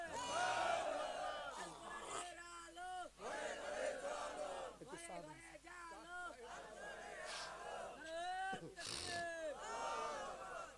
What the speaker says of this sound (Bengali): একজন তাকবীর দেন দেখি